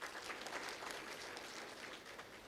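Dense clapping from a group in a session hall, steady and continuous for a couple of seconds at moderate distance, with no talk over it.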